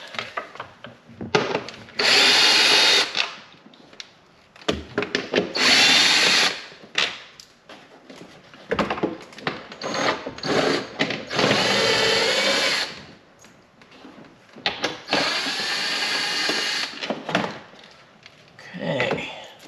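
A cordless power drill used to remove parts on a C7 Corvette, several loud whirring bursts of a few seconds each with short pauses between, close up, with brief quiet talk in the gaps.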